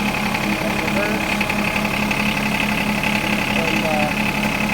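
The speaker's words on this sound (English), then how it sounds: "And then you can start driving the tractor with the forward reverse pedal." A John Deere lawn tractor engine runs at a steady, loud, close idle with a constant vibrating hum and no breaks.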